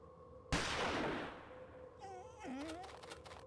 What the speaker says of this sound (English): gunshot seems to have frightened him off